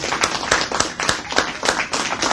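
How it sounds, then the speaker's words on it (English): A small indoor crowd at a community night claps in a short burst of applause, uneven individual claps close by, fairly loud and continuous. "another round of applause"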